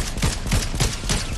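Rapid gunfire in Fortnite: loud, evenly spaced shots in a quick burst, close and without any talking.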